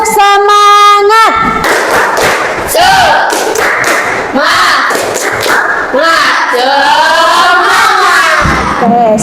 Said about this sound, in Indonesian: kita lanjutkan dengan tepuk semangat